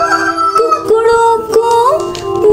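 A rooster crowing in a children's animal sound song, loud harmonic calls repeating in a sung, tuneful pattern over about two and a half seconds, likely a voice imitating the bird.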